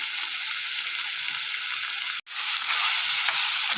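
Chopped onions frying in hot oil for mutton biryani, a dense steady sizzle close by, broken once by a brief dropout before the crackle resumes just as strong.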